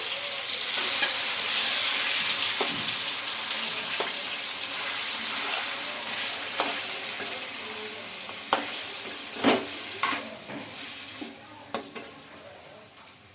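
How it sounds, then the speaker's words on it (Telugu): Marinated chicken sizzles and fries in a pan, a continuous close crackle. Occasional scrapes and knocks from stirring become more frequent toward the end. "మ్యాగ్నేట్ చేసుకున్న చికెన్ అయితే వేసుకుంటున్నానండి"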